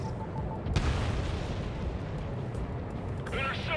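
Bombs dropped from a jet in the video game Ace Combat 7 burst with a heavy thud, followed by a long rumbling roar of explosions and engine noise, with a radio voice briefly heard near the end.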